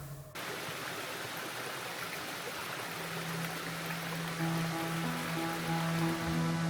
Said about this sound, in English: the Glen Ashdale burn drops through the trees in a dramatic double waterfall